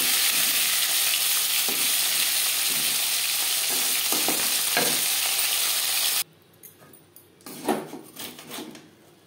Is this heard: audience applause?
no